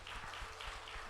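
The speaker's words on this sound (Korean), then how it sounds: "박수 한번 하겠습니다." A church congregation clapping together for a birthday during a Sunday service, a soft, steady patter of many hands with a faint rhythmic pulse, heard from a distance.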